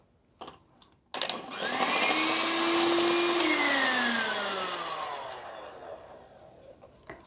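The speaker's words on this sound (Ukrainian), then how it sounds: "І продовжую збивання до міцних піків." A loud electric hand mixer whirs steadily for several seconds after a couple of sharp clicks, its pitch sliding down as it whips egg whites with added sugar toward stiff peaks.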